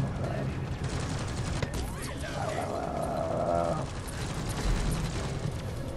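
Sniper turrets fire in the video game Deep Rock Galactic: a dense burst of gunfire cracks layered with mechanical clatter and game noise, continuous at moderate loudness, with voices mixed in.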